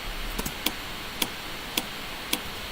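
Layered top kick and percussion samples adding click and top end to a kick: a few bright, dry ticks in a steady rhythm, with a quick double tap before four evenly spaced hits, close and crisp.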